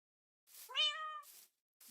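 A single clear, close meow from a cat in Minecraft, framed by soft bursts of hiss and otherwise near-silent.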